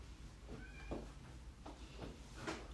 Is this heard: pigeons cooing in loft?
no